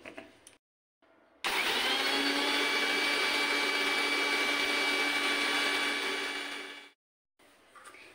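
An electric mixer grinder grinds sugar with thandai powder, starting with short bursts and then running in one loud, steady, high-pitched whir for several seconds before cutting off abruptly, followed by a brief final pulse.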